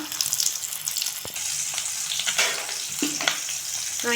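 Pieces of KFC-style chicken frying in hot oil, a loud bright steady sizzle with bubbling crackle throughout, plus a couple of sharp knocks and a flare of spitting as more pieces drop in; no talking.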